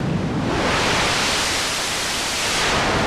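A steady, loud hiss of broadband noise from the noise oscillator of a KORG NTS-1 MK2 mini synthesizer, unchanging and alone, cutting off abruptly at the end.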